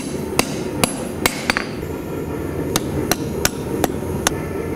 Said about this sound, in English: I'm gonna come in here with a fuller and try and boom, boom.